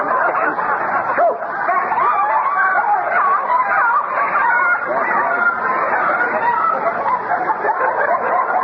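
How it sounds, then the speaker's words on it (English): A crowd of chickens squawking and clucking continuously, loud and close, with busy overlapping chatter throughout. "That's them chickens."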